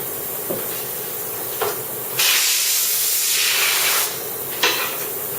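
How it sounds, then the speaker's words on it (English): Compressed air hisses in several bursts while a unibody MacBook Pro with liquid spill damage is cleaned during keyboard repair; short blasts lead into a long steady spray, close and loud, no talk. "if you use compressed air on the speaker, keep it under 25 psi so that you don't wind up destroying the thing"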